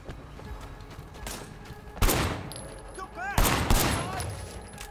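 Gunfire in the video game Sleeping Dogs comes as two loud, sharp volleys of rapid shots, each ringing off into a ringing tail, over a quieter background of game noise.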